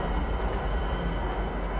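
A train in the video game Star Citizen rolls along with a continuous low rumble and a dense, steady rattle that fills the moment without voices.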